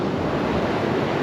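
Ocean waves break on the shore in a steady, full roar of surf that fills the whole moment, with wind rushing across the microphone and no voices.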